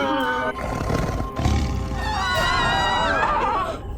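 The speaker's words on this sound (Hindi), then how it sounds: "प्रतीत होता है उस बाघ का आत्मविश्वास बहुत बढ़ गया है, तभी तो इतनी तीव्र ध्वनि से वो दहाड़ रहा है" A tiger in a Tenali Rama period drama lets out a loud, sustained roar with wavering, growling tones, mixed with other dramatic vocal sounds.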